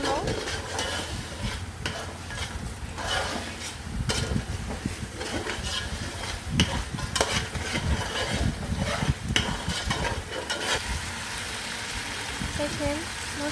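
Spices frying in oil in a pan are stirred steadily, with a continuous close sizzle broken by scraping and clattering strokes of the spoon throughout.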